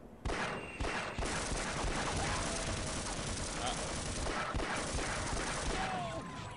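Rapid, continuous gunfire from weapons in the video game Half-Life rattles loudly for several seconds, with dense overlapping shots and a player's voice talking over it.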